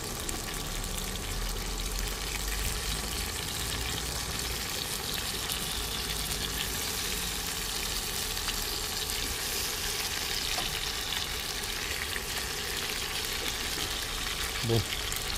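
Chicken pieces sizzling in a pan for a chicken and vegetable stew, a steady close frying hiss throughout with faint stirring noises and a small clink near the end.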